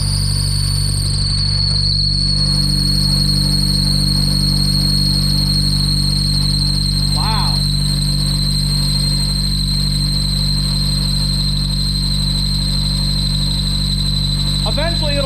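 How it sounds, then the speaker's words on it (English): A 2000 Mazda Miata engine runs steadily, its constant drone holding throughout while a high, thin belt squeal sits on top of it. Short squeaky chirps break through twice, and speech is likely present under the engine noise. "don't mind the belt squeal, there it is"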